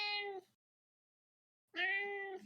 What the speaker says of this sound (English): Curio's just over here meowing incessantly